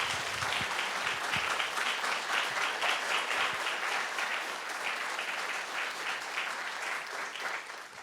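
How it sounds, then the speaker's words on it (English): Sustained applause from a symposium audience honoring a panel of speakers at a museum event, dense steady clapping filling the room for the full length, tapering slightly near the end. "So can we please give a big round of applause to all of our speakers?"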